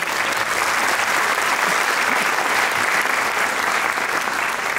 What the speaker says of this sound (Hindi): तालियों से करते हैं आपका सम्मान।